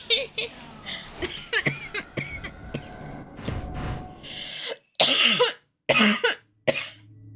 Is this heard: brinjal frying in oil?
no